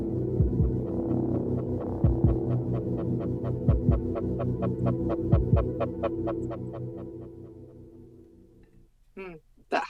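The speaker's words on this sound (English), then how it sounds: "That heartbeat in the background" A heartbeat sound effect from a film scene throbs in a steady low pulse, with regular thumps under a sustained hum that fades toward the end.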